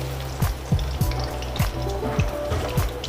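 Okra (bhindi) fries in oil in a pan, giving a steady close sizzle with soft popping and spitting, broken by regular clinks of a utensil against the pan about every half second.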